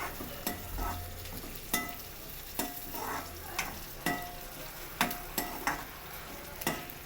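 Peanuts roasting in a pan with onions for upma, giving a soft, low sizzle punctuated by regular, distinct scraping and clinking strokes of a spoon against the pan, fairly quiet and close.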